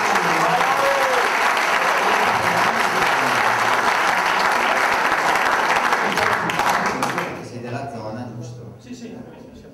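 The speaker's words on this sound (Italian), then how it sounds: "Un grande applauso alla banda" Applause for the band at a motoadventure event in Roè Volciano, a loud, thick outdoor clapping from a crowd lasting about seven seconds, then dropping away abruptly as talking takes over.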